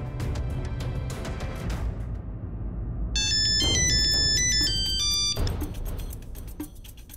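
A phone ringtone plays during a call, a bright electronic melody that starts partway through over a low, busy room rumble and then fades and breaks off near the end.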